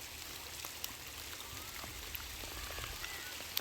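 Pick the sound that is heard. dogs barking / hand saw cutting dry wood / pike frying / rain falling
rain falling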